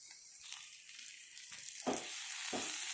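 Bitter gourd (karela) slices frying in a pan, a soft steady sizzle with a few brief scraping bursts as the pieces are stirred, close and fairly quiet.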